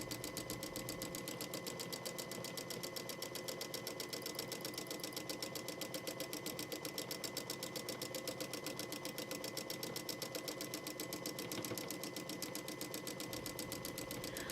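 A sewing machine runs continuously while stitching quilted feather plumes along a border, its needle producing a fast, steady mechanical clatter at even volume throughout.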